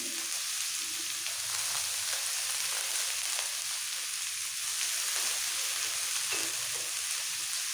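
Chopped beans drop into a frying pan of vegetables for pav bhaji, giving a soft, steady sizzle up close with faint stirring and no voices.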